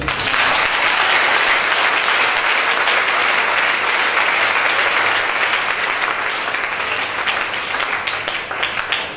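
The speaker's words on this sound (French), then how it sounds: "J'aimerais que tu acclames un peu plus." Applause from a church congregation during a couple's testimony, steady dense clapping that fills the whole stretch at even loudness, with no pause.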